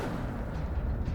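Incendio fire spell cast in the Hogwarts Legacy video game, a brief, dense low rumbling burst like a fiery blast, lasting about a second with steady loudness and no speech.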